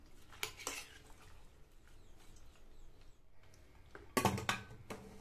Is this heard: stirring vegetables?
yes